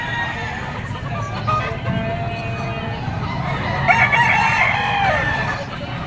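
A yellow-legged pumpkin bull stag rooster crows once, drawn out and fairly loud, amid a busy outdoor market with a crowd's chatter and other fowl clucking in the background.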